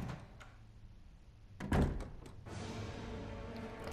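In a Resident Evil game, a door opens with a loud thunk followed by a sustained low rumble, standing alone with no talk.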